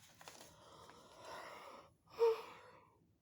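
A drawn-out breathy yawn rising and fading, followed by a shorter, louder exhaling gasp near the end; close and quiet, no talking.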